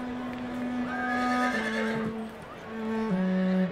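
Several horses neigh and whinny in a WWI-era troop setting with Canadian cavalry, long drawn-out calls rising and falling one after another, fairly close and loud, with faint hoof clops underneath.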